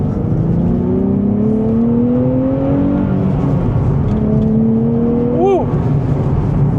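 A 2026 Nissan Z twin-turbo V6 with a manual gearbox pulls hard through second gear, its engine note climbing steadily in pitch for several seconds, easing briefly, then rising again under the in-cabin roar.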